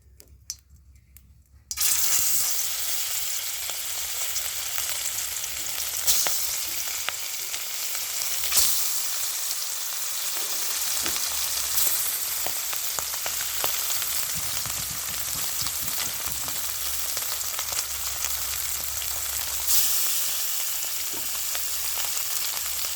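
Fish frying in hot white oil gives a loud, continuous crackling sizzle that starts abruptly and runs unbroken, with occasional sharper pops and spatters.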